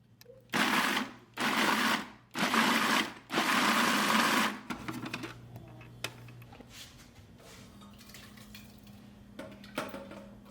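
Food processor pulsing tomatillos for salsa verde: four loud whirring bursts of about a second each with short gaps, then quiet kitchen clatter and small knocks.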